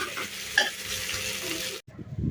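Fish fries in oil in a pan with a close, dense sizzle and a brief utensil clink, then the sound cuts off abruptly near the end.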